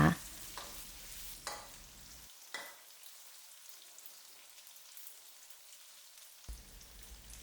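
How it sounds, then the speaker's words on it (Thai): Shiitake mushrooms crackle and sizzle in a wok while a spatula scrapes and tosses them, then the frying drops to a faint hiss before stirring resumes. "ผัดไปเรื่อยๆ นะคะ จนเห็ดหอมส่งกลิ่นหอมนะคะ"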